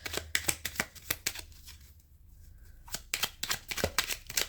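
Tarot cards shuffled in bursts of crisp riffling slaps, close and fairly quiet, with a short pause in the middle before the shuffling resumes, no talking.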